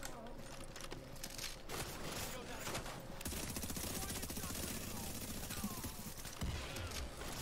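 A fast-firing gun in The Division video game, Resistance mode at Pier 93, lets off dense, rapid bursts of shots that run almost continuously at loud, close range amid other battle noise.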